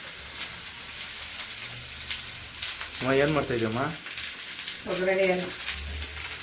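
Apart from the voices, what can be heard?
tempering spices sizzling in hot oil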